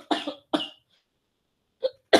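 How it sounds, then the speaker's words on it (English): Several sharp, close coughs: two quick ones, a pause, then two more, with silence between. "I can't control my coughing"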